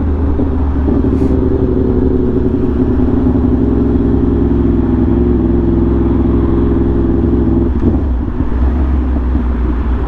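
Yamaha R1M motorcycle fitted with a new SC Project exhaust, a steady deep engine rumble with a low even idle-like tone held throughout, loud and close, with a brief shift near the end.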